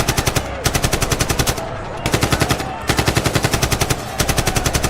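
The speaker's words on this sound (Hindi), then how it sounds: "जाते हैं और गोलियां चलने लगती हैं।" Rapid bursts of automatic gunfire, loud and close, in several long volleys separated by brief pauses.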